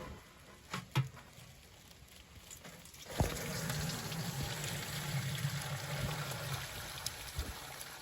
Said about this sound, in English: We just put that on top of the bucket, poured the beer in